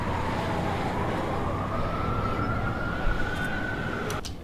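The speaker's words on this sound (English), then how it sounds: "You would hear the wind most prominently, and you would hear the city noises in the distance" Layered ambience of steady wind with distant city noise, including a faint siren-like tone rising and holding in the background, a continuous wash of sound throughout with a couple of brief ticks near the end.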